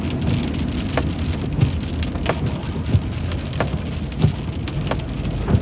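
Steady rain falls on the surfaces outside, a loud continuous patter with heavier drips landing at regular intervals close by.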